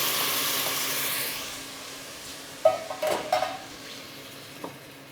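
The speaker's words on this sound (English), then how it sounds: "you can hear that sizzling a lot in the pan, so that'll reduce down really, really quick because the heat" Red wine, Pinot Noir, hisses steadily as it reduces in a hot pan while quail is being cooked, with a few clinks and scrapes of a utensil against the pan partway through.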